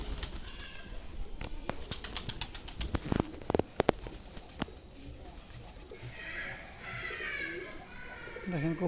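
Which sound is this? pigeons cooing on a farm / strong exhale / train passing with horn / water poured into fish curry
pigeons cooing on a farm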